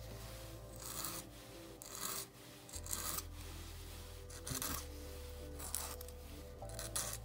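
A file sharpens the point of a fishing hook on a large 3/4 jig. Faint, close rasping strokes repeat about once a second over a low background hum.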